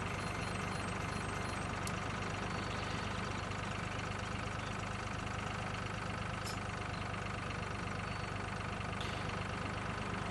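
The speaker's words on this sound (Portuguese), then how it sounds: "Estamos aqui no trator." A tractor engine in the video game Farming Simulator 2013 drones steadily and loudly throughout, with faint clicks now and then.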